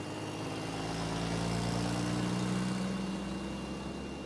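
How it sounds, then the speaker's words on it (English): A classic Bedford lorry towing a Foden tractor unit on a road run of old lorries, giving a steady low diesel engine drone with a rumbling hum that stays at an even, moderate level the whole time. "we've got a mighty Bedford in the foreground, and that's dragging a Foden tractor unit"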